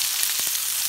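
Onions browning in a pan, a steady broadband sizzle throughout with a brief stir or shift in the middle, no talk.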